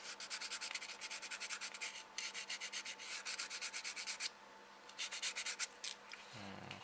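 300 grit sandpaper smoothing the edge of a plastic Hasegawa SR-71 Blackbird model, quick rhythmic close scratchy strokes in several runs with brief pauses, a soft thump at the end.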